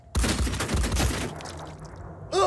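Gunfire in a turn-based video game: a quick close volley of several sharp shots in the first second, fading into a low tail, then a brief tonal game sound at the end.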